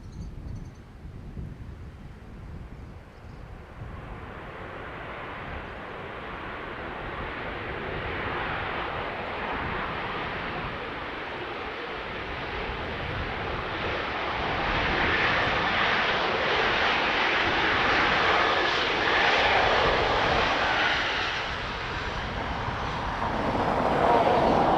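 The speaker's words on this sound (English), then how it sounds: "Ryanair from Barcelona." A Ryanair airliner arriving from Barcelona at Dublin Airport gives a steady broadband engine roar that builds gradually and stays loud and sustained, peaking toward the end, with no talk over it.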